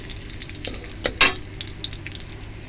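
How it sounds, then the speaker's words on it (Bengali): Bay leaf, cumin and ginger fry in oil in a pan, a steady soft sizzle with a sharp spatter or stir near the middle, close and without any voices. "এটা হালকা একটু ভাজে নেব।"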